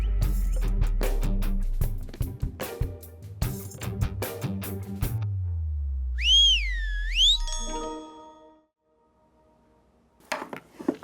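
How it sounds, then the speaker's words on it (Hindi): A parrot whistles two wavering, sliding notes that rise and fall, clear and fairly loud. They come after a run of clattering, ringing hits and a low hum, then fade into silence. "सीटी मैंने नहीं मारी, इस तोते ने मारी है।"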